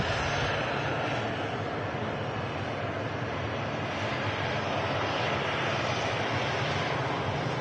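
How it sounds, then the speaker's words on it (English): A TUI Boeing 787 Dreamliner taxiing out at Manchester Airport, heard as a steady, loud broadband jet engine roar and whine that holds evenly throughout with no talk. "We've got a Tui Dreamliner on the taxi out as well."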